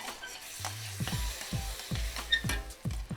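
Beef being mixed with soy sauce and Worcestershire sauce in a pan gives a steady sizzle, broken by repeated scraping stirs about every half second, close and moderately loud with no talking.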